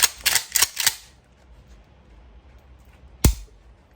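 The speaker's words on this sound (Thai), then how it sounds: "บริหารกลไกด้วยการเลื่อนชักนะฮะ ชักยิงครับ ออนุญาตเคลียร์ปืนนะฮะ" A pump-action shotgun is racked and cleared, giving a quick run of four sharp metallic clacks. After a quiet pause, one more loud, crisp clack follows, close by with no voices.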